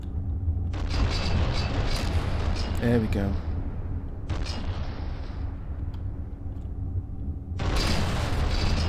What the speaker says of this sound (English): My god, so many cannons.